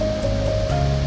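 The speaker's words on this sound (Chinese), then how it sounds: "黑白交叉的瀑布奇景，即将感受到能量的开朗" Waterfall in Iceland ringed by dark hexagonal basalt columns, a loud continuous roar of falling water heard close up, with a steady tonal hum layered over it.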